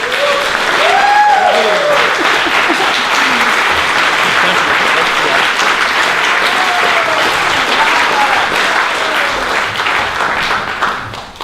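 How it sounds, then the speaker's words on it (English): Film festival audience applauding an on-stage guest, loud dense clapping that swells early and holds steady before tapering off, with some voices and cheers mixed in. "Let's have a round of applause for Mo"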